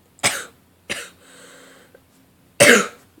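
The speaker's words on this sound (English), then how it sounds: "if you hear me cough" A few close, dry coughs, two in quick succession, then a pause and one louder cough at the end.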